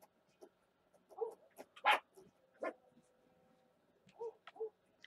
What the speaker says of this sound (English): She hears the bigger ones barking.